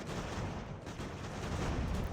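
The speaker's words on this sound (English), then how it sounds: "get the cannons to shoot the cavalry" Cannon fire in the Ultimate General American Revolution video game, heard as dense continuous rumbling battle noise with overlapping booms and no clear gaps.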